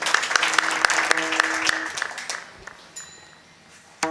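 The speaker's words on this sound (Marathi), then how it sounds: "आता मुलांसाठी टाळी वाजवा जोरात" An audience at a kirtan clapping loudly for children, sharp rhythmic claps close by that thin out and fade over about three seconds, with a brief voice and a final clap at the end.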